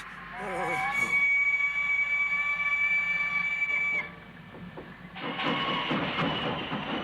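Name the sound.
train departing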